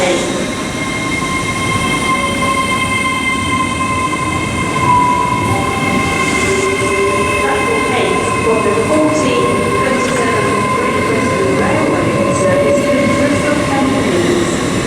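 A passenger train departs a platform at Reading station, its loud, steady rumble and whine running throughout, with wheel squeals and faint clicking over the rails.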